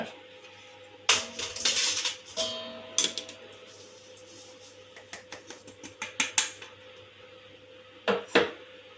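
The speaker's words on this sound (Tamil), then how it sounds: "இதை நம்ம ஒரு வாட்டி ஜலிச்சு எடுத்துக்கலாம்" Ground rice flour being sifted over a wide vessel, irregular clusters of sharp metallic taps and rattles separated by quiet pauses, close by with no talking.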